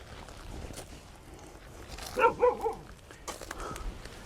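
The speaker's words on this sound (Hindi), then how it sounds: "साइड पे इसने कुत्ते छोड़े हुए हैं।" Dogs bark in a short cluster of several sharp, fairly close yelps and barks at a guarded gate in a horror game scene, set over a low background hum.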